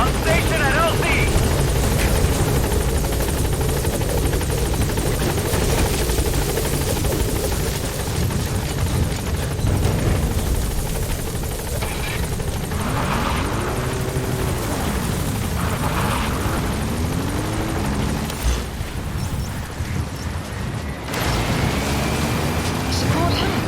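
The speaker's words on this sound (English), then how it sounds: "Support helicopter has arrived." A support helicopter arrives in Metal Gear Solid V, its rotor chop and engine whine loud and constant throughout, with radio voices and game effects layered over it.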